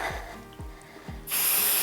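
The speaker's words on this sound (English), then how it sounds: "So I will take my spray, shake it up" A spray can of quilt basting spray lets out a steady, close hiss that starts abruptly and runs to the end, after a few soft low thumps.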